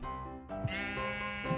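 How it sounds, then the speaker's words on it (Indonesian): Sheep in Minecraft bleat close by, several wavering blats in quick succession over a couple of seconds, with no talking. "yuk kita masukin domba-dombanya"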